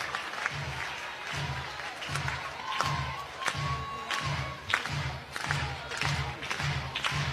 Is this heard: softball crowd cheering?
yes